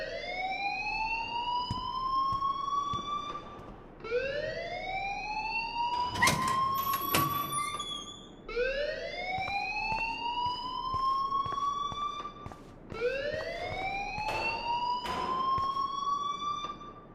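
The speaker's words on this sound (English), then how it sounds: "please turn off that alarm since that's your job" A fire alarm in the Life is Strange video game wails in repeated rising electronic sweeps, four loud cycles with short gaps, and clattering noises in the middle.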